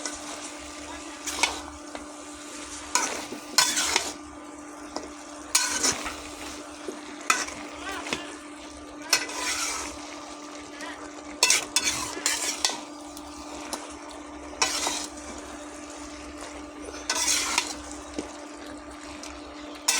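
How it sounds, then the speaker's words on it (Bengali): Spinach curry with fried lentil dumplings is stirred in a hot pan: repeated scraping strokes come in irregular bursts over a continuous soft sizzle, with an occasional clink of the utensil against the metal. "দিয়ে আবারও ভালো করে নেড়ে দেবো"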